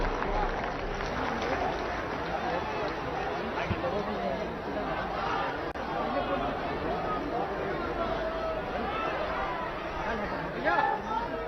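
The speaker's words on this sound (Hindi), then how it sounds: "आप सबकी जोरदार तालियों के बीच" Sustained applause from an audience at a public event in Uttar Pradesh, a steady dense wash of clapping mixed with crowd chatter and some talk throughout.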